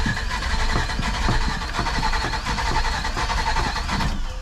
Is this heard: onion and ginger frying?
no